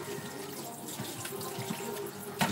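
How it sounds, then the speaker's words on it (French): A cutting board is rinsed under a kitchen tap, with running water splashing steadily into the sink and a brief louder splash near the end. "Je rince la planche."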